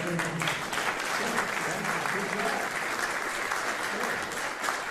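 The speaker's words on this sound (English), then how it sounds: "You didn't hear because of the thunderous applause for Hester." An audience claps at a presidential bill-signing ceremony, with sustained, dense, loud applause from a large crowd throughout.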